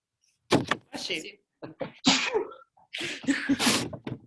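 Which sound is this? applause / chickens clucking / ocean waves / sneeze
sneeze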